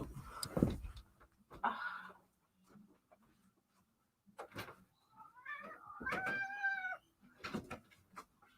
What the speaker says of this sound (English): my cat is crying at the door here.